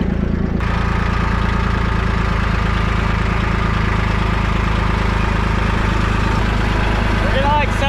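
A tractor engine idles steadily with a constant low rumble close by on a farm property, with brief talk at the start and a few faint sounds near the end.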